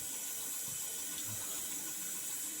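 Tap water running steadily into a sink while a synthetic Razor Rock Big Bruce shaving brush is wetted, a faint continuous hiss with soft splashing and no talking.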